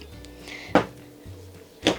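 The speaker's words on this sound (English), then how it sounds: "And then here is a drawer." A drawer in the kitchen of a 2025 Winnebago Micro Minnie camper opens and shuts, two sharp close knocks about a second apart against a quiet hum.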